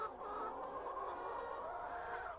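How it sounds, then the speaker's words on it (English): Many chickens clucking together on a chicken farm on the outskirts of Nairobi, Kenya, a dense, steady chorus of overlapping clucks heard from close by with no talk. "a chicken farm on the outskirts of Nairobi in Kenya, where antibiotics are part of the daily diet"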